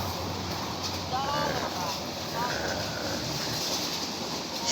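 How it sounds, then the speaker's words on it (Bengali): A long train approaches a station in Sirajganj as a low, steady rumble with gusts of wind noise. A person talks over it throughout. "ট্রেন চলে আসছে, দেখতে পাচ্ছেন এই মধ্যেই ট্রেন চলে আসছে"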